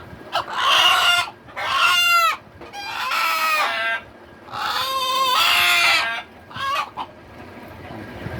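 Desi rooster crowing and chickens clucking close by, several loud drawn-out calls in separate bursts with short quiet gaps between them and no talk over them.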